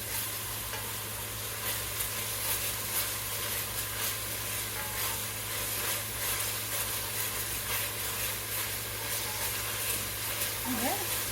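About a teaspoon of garlic fries in a pan, giving a steady, soft sizzling hiss with light stirring that continues evenly at low volume throughout.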